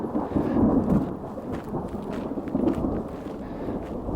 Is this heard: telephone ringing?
no